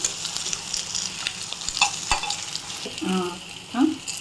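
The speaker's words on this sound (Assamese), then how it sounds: "এই ৰঙা ৰঙাকৈ ভাজি ল'ব বস্তু কলডিলৰ টুকুৰাকেইডোখৰ" Pieces of food sizzling and crackling in hot oil, with occasional stirring scrapes and soft clinks in the pan.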